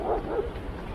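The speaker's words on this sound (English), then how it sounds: "We have a barking dog to contend with." A dog on a hillside path on Skyros, a Greek island in the Aegean, gives a short bark or two, moderately close against outdoor background noise.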